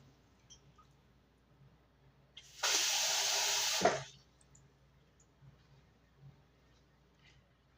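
Tap water runs for about a second and a half into hot water to cool it for chapati dough: a loud, steady hissing stream that starts and stops abruptly, in a quiet kitchen with faint clicks before and after.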